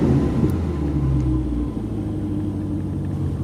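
A 2020 Chevy Corvette C8 3LT Z51 engine running after a push-button start, a steady deep low rumble close by that drops slightly in level partway through, with no voices.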